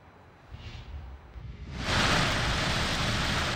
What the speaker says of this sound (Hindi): रावलपिंडी में मूसलाधार बारिश, नालालई और बरसाती नाले बिफर गए।